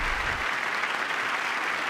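Members of Congress applaud during a presidential speech, a steady, moderately distant wash of clapping that carries on evenly for a short stretch.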